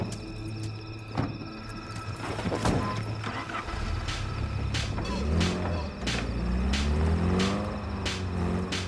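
Car engine hums and rises through a drive in Cyberpunk, steady low rumble with some revving and clicks across the clip, voices briefly over it.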